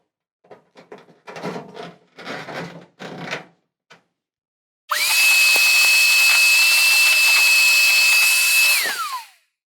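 Several dull knocks and handling clunks come first, then a shop vac with a small hose attachment run into a dryer vent roars loudly and steadily with a high motor whine for about four seconds before winding down.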